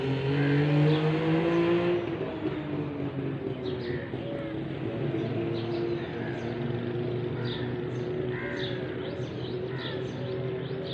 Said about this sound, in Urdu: یہ اسلام آباد کی سڑکوں پر گاڑیاں کس زور سے باجے بجاتے ہوئے، یعنی اس کی انجن کی آواز ہے